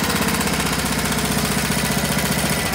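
A Briggs and Stratton 5 hp outboard motor runs steadily at a close distance, producing a loud, continuous engine drone with a rapid, even knocking pulse and no voices over it.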